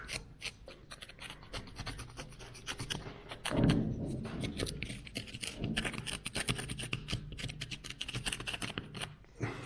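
A hand tool scraping old paint off plaster ceiling moulding, giving quiet, repeated rasping strokes at close range in an irregular rhythm, with no talk over it.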